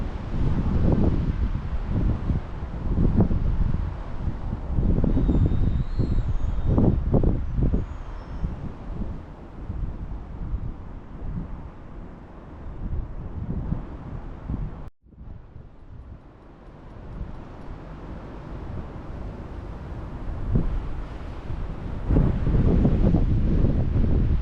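Wind buffeting a microphone on a winter bank of the River Severn during barbel fishing, a loud continuous low rumble with irregular gusts that swell and fade, broken by a brief dropout midway.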